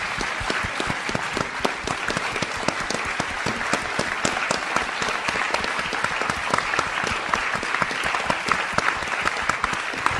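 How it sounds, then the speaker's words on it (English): An audience gives a sustained round of applause after a panel discussion on Les Misérables, dense steady clapping filling the room for the whole stretch without a break. "if we could please give her a round of applause for the work that she's put in"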